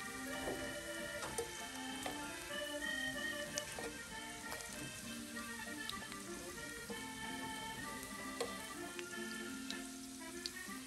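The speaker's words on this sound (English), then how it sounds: "Get them sitting in that oil to cook up." Squid sizzling in oil in a pan outdoors, a steady crackling fry with scattered sharp pops and ticks, fairly quiet and close, with no talking.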